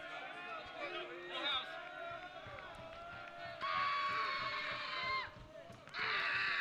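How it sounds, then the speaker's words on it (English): Crowd noise swells at a college baseball game between American River College and Sierra College on a Tuesday afternoon, with babble and cheering surging loudly in two bursts beneath steady play-by-play talk. "Crowd livening up here on a alternately sunny and not sunny"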